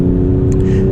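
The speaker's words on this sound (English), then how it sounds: "let's start with the M340i xDrive that we're driving now" BMW M340i xDrive driving, a loud steady engine drone with a strong sustained hum from inside the cabin, over in under a second with no talk.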